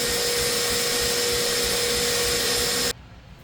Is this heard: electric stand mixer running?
yes